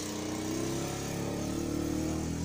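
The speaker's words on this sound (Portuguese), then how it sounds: "Ó, o barulho da moto" A motorcycle engine drones steadily at a distance, a continuous mid-pitched hum with slight revving that holds for the whole moment without fading.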